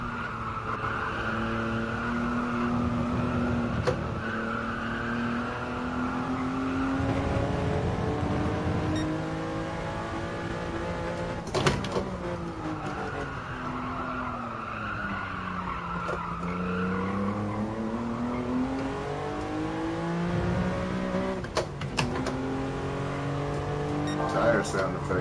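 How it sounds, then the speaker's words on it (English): Cars in the racing game Gran Turismo Sport squeal and skid their tires through corners, the engine notes rising and falling with long sliding screeches and a few sharp shifts, while a voice talks over it. "Tire sound effects is really good though."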